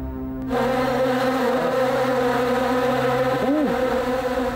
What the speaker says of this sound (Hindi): जैसे कि बहुत सारी मक्खियां भिनभिना रही हो।